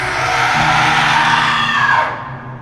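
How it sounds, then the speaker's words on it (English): A long, loud, close scream used as a sound effect in a horror story, harsh and sustained for about two seconds before cutting off into quiet. "a scream tore through the silence"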